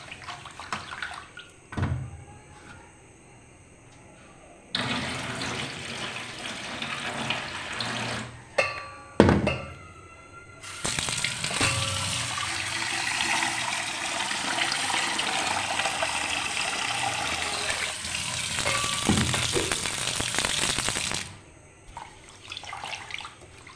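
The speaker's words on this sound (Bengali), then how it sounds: "দেখো আমি বেশ হাত দিয়ে চটকে চটকে ধুয়ে নিচ্ছি।" Gobindobhog rice being washed by hand in water, with bursts of splashing and running water, a long steady pour in the middle, and quieter sloshing and stirring between.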